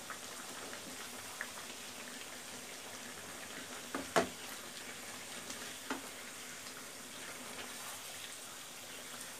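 Beef and spices stir-fry in a pan with a faint, low sizzle throughout, broken by a couple of sharp clinks and scrapes of a utensil near the middle.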